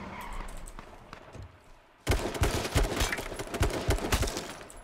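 Rapid gunfire bursts in the H1Z1 battle royale video game, aimed at the player's character, erupt loudly after two quieter seconds and continue densely with cracks and thuds.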